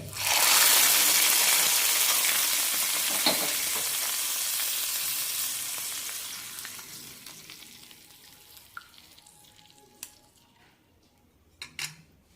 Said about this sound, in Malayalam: കടുകും കറിവേപ്പിലയും ചുവന്നമുളകുമാണ് വറുത്തിട്ടിരിക്കുന്നത്